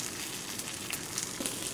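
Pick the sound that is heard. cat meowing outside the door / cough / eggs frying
eggs frying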